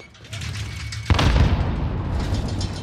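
A frag grenade goes off in a Call of Duty match as a sudden loud boom that rolls into a sustained rumble and debris noise, with faint voices underneath.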